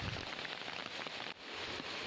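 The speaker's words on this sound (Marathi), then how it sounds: "पाऊस कंटिन्यू चालूच आहे" Steady, soft hiss of continuous heavy rain falling on a surface, even and unbroken, fairly faint and with no voices.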